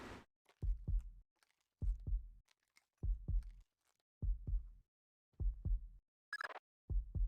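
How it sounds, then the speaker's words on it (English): Heartbeat sound effect from a video game, a loud close lub-dub thumping repeating in steady pairs about once a second, with a brief higher blip near the end. "hearing your heartbeat is not out of the realm of possibility"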